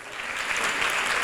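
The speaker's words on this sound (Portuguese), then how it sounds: "Pode aplaudir-se Jesus." A church congregation applauds in a brief, steady patter of many hands clapping together.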